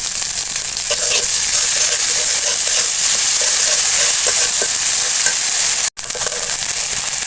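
Chopped onion, chili, cumin paste, garlic paste and ground spices fry in a pan for an egg and bottle gourd curry, with a loud steady sizzle, scattered scraping stirs, and a brief gap near the end.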